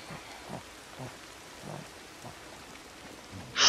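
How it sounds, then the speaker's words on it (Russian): Steady rain falling in the video game Ancestors: The Humankind Odyssey, a soft continuous hiss of drops heard alone, ending with a brief louder burst. "А типа дождь все время будет идти"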